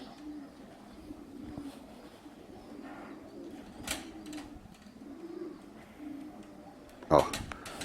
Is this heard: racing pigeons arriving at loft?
yes